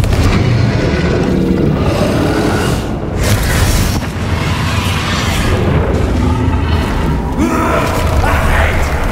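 Confringo blasting-spell explosions in the game Hogwarts Legacy, loud booming bursts layered over dense game noise and effort sounds, with a brief dip around the third second and a second burst soon after.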